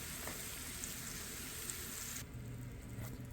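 Bacon-wrapped deer hot dogs sizzle and fry in a pan, a steady close hiss running throughout with no talking.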